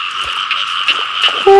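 Frogs croak at night in water after rain, a steady dense chorus close by with a few louder individual calls standing out, no voices.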